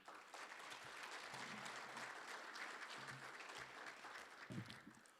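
An audience at a forum applauds an award recipient, a sustained wash of clapping from many hands at a distance, fading slightly at the end.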